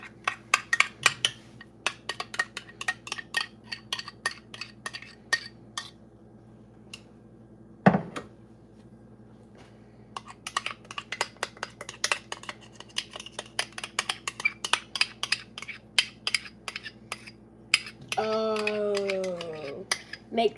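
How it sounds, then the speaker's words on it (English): A spoon clinks and scrapes steadily against a bowl while mixing baking batter, with brisk repeated metallic taps, close and fairly loud, pausing briefly before resuming. "So next, I'm gonna get a spoon, and we're just gonna Mix it"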